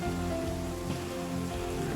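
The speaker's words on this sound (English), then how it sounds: "this rain keeps up, the place might start to flood a little bit" Heavy rain pours steadily across a flat, open drive-in lot, a dense and constant wash of drops close by, with no voices and no letup.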